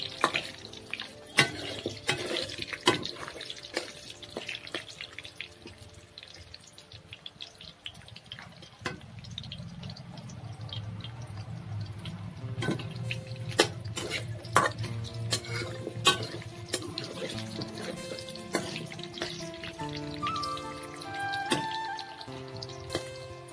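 Potatoes being stirred and turned in a pan while frying, with a steady scraping and sizzling texture and intermittent utensil knocks throughout, no voices.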